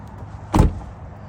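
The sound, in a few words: popping the hood of a Mustang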